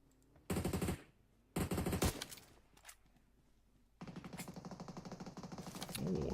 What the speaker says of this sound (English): Getting a couple bullets out with the heavy guns.